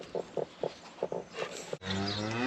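Cattle on a farm fed rice straw bales give a series of short, low calls, then a longer, louder drawn-out moo that swells near the end, with no talk.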